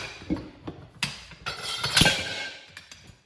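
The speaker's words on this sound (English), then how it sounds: "One slap of that slide hammer and it's off." Several sharp metallic strikes from a slide hammer on a lawn tractor's rear tire bead land at irregular intervals, one especially loud ringing blow near the middle, with faint clanking between.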